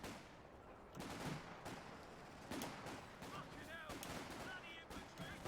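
Machine gun and artillery fire from a WWII strategy video game come as a steady crackle of bursts and thuds, fairly faint and continuous, with a voice talking over the battle.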